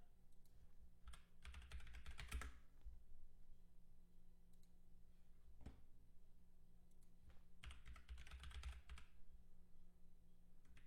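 Keys clatter on a computer keyboard, faint and close, in two quick bursts of rapid typing separated by a quiet stretch with a few isolated clicks.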